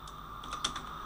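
Soft clicks of typing on a computer keyboard, a few quick close keystrokes with one sharper press in the middle, faint and alone.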